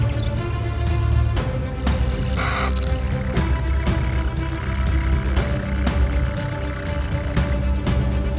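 Nestling birds nearly as large as their parents call continuously from a nest in northern Iberian woodland, a loud, dense chorus of calls with insect chirring running steadily underneath.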